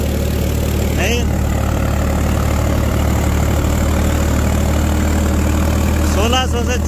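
A new 2024 Swaraj tractor engine idles loudly and steadily up close, a constant low rumble with a slight sag in revs, and brief higher whines near the start and end.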